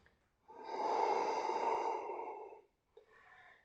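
A slow, deep breath taken during a dynamic yoga sequence, one long exhale lasting about two seconds, followed by a shorter, quieter breath, heard close up with no talking.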